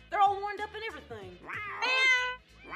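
Several house cats meow loudly and repeatedly, overlapping in a series of drawn-out, rising and falling cries close to the microphone, with no talking.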